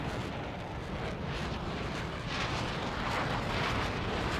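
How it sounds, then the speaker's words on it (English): A large explosion in the War Thunder air battle over the Dover Strait rolls out as a long, loud, broadband rumble that roars steadily for several seconds with no distinct onset, like distant blast noise mixed with jet roar. "Whoa, that's an explosion."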